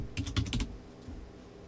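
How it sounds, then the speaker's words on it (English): A quick burst of keystrokes on a computer keyboard, about five close taps in rapid succession, then quiet room tone. "I can also then begin to add sizes just by typing in any size"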